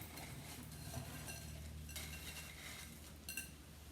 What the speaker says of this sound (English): Then you want to take all of your spices and you put that over in here. Okay? Go give everything a good mix.